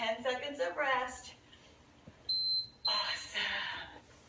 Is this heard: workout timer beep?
yes